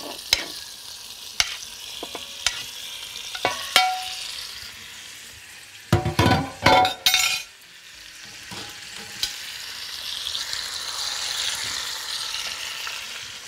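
Meat seared in a well-heated pot with a little black pepper, sizzling steadily while a spoon scrapes and stirs in sharp bursts, with a louder flurry of stirring midway before the frying hiss settles back to a steady crackle.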